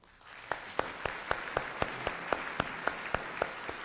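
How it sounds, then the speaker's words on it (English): Applause from a convention audience at a church assembly, heard as a quiet, steady run of distinct claps at an even rhythm, somewhat distant and sparse rather than a full roar, with no voices. "We can affirm those with a round of applause."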